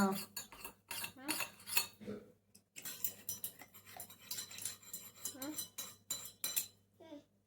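A spoon stirring sugar in a cup or glass to dissolve it, producing repeated close metallic clinks and scrapes in irregular bursts, with a short pause partway and voices talking in between.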